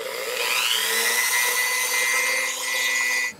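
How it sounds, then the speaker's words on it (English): A high-pitched Dremel rotary tool with a small drill bit whines steadily while drilling a hole into a resin charm, its pitch shifting slightly, then cutting off abruptly at the end. "I have a little drill bit attached to my Dremel"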